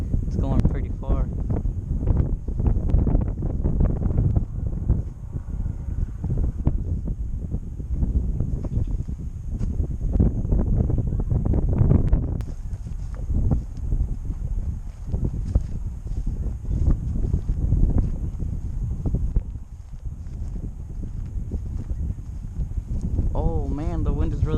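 Wind buffets the microphone during an outdoor test flight of a Visuo X816 drone, a continuous low rumble with gusty surges lasting throughout.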